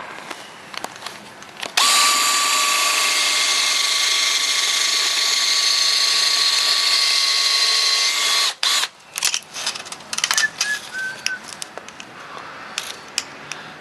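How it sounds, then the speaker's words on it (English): A power drill whines steadily for about six seconds at close range, drilling out rivets on an industrial light fixture, then stops, followed by scattered clicks and metallic rattles. "to do that, you just drill out the rivets."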